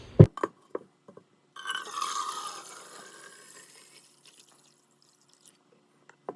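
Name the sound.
filling a copper jug with water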